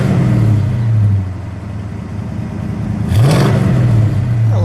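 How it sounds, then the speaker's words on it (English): A blue and silver 1975 Dodge Charger Daytona with a 360 V8 revs up from a high idle, dropping back and then rising again in a loud, close, throaty swell. "give it one more good rev"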